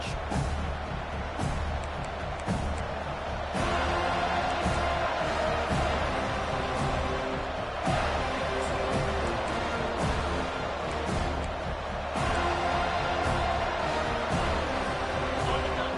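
Steady roar of a college football stadium crowd during a Florida State Seminoles game, a loud continuous wash of cheering that swells in a few surges, with the game broadcast commentary running over it.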